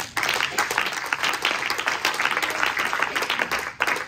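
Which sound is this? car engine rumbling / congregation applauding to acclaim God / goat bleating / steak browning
congregation applauding to acclaim God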